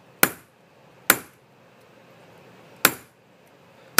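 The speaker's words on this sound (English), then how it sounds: "So starting out, I'm not going to hit it very hard." A hammer taps a metal cabinet hinge in light, separate strikes, four sharp ringing clinks spaced irregularly, each fading quickly into near silence.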